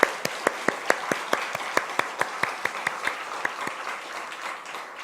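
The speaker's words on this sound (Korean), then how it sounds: "박수 한번 보낼까요?" A church congregation at a Christmas service applauds the choir, steady rhythmic clapping in unison with crisp, evenly spaced claps that ring out in the hall for several seconds.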